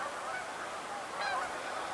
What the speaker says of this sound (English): the geese are all down here